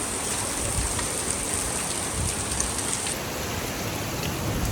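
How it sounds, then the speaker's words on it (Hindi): Steady rain falling outdoors, a dense even hiss heard close and continuous with no voices. "ये है बारिश"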